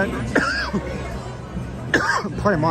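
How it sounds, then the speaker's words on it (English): A few harsh coughs in a noisy indoor space on the Las Vegas Strip at Christmas time, with crowd murmur and background music throughout. "Coughing like a crazy person here."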